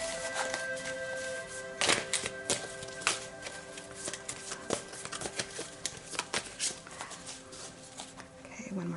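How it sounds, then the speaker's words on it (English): A deck of tarot-style cards being shuffled in bursts of crisp riffling and tapping, fairly close, with a steady tonal hum and faint background sounds underneath. "one more shuffle"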